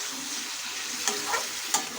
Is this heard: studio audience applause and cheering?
no